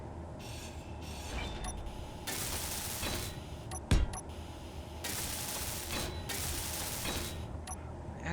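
A welder tool runs in Space Engineers, a harsh hissing, crackling stream that switches on and off in several bursts, with a sharp clank in the middle and faint talk in the background.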